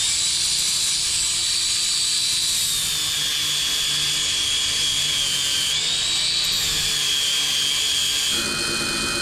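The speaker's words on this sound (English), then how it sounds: "I used my Milwaukee, I love this tool, Milwaukee belt sander." A Milwaukee belt sander runs steadily with a high, whining hum and a gritty rasp on a CRX project, loud and continuous for about nine seconds with a slight shift in pitch near the end.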